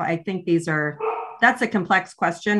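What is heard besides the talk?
dog barking in the background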